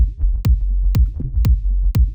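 Bubbly bass layer for a hypnotic techno track, playing together with the full set of low-end instruments: thick rumbling bass under a regular thumping kick roughly every half second, with short gurgling blips in between, no voices.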